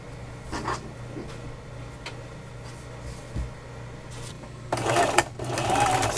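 A sewing machine stitching fabric apron straps, heard as short bursts of whirring and then a louder sustained run near the end, with some speech mixed in.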